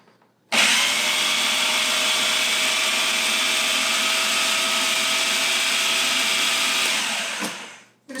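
Food processor blending kale pesto with salt and pepper: one continuous loud motor whir starts abruptly, holds steady for about seven seconds, then winds down and stops, close by with no talking.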